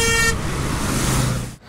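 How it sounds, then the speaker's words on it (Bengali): Highway traffic on the Kolaghat bridge rushes past, a loud close roar with a horn sounding briefly at the start, fading abruptly near the end. "গাড়িগুলো কিভাবে যাচ্ছে দেখুন"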